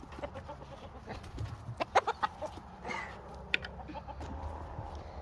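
A rooster clucks in several short, sharp bursts at close range, over a low background rumble, with a few quieter clucks afterward.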